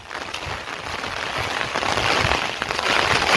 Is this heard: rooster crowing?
no